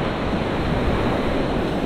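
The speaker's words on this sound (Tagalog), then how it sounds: "Tinan nyo, nasa pantubig oh, sobrang laki ng alon." Big sea waves churn during a typhoon under a dark sky, a dense, constant roar of surf close by with some wind rumble mixed in.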